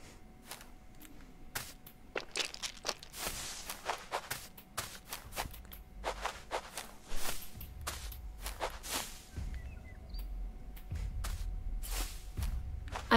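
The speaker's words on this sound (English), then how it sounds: "I can hear the footsteps" Footsteps of a T-Rex roaming in Isles of Yore, a series of irregular thuds with sharp transients and low rumbles, growing heavier and nearer toward the end.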